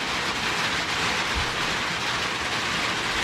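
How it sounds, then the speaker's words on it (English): Rain falling on a storage building, a steady, dense hiss of drops filling the space evenly throughout, with no talk. "it's starting to rain, so you might hear some raindrops."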